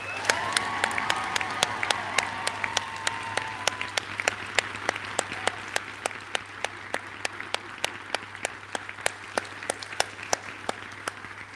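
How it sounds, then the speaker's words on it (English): Graduation ceremony audience claps and cheers, a dense crowd of applause with a steady run of sharp, evenly spaced loud claps close by, plus a brief whoop early on, over a low steady hum. "give them a full support, round of applause, and a huge cheer"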